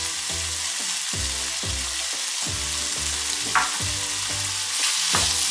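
Pineapple shrimp fried rice being stir-fried in a pan, a loud continuous sizzle with regular scraping and clanking strokes of the spatula repeating about twice a second, close up with no talking.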